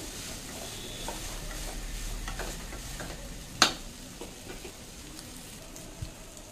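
Cooked basmati rice being mixed with salt in a pan or vessel: a steady soft crackling, stirring rustle with a single sharp clink of a utensil on the rim partway through, close and fairly quiet.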